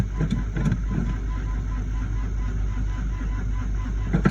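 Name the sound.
old truck engine cranking and trying to start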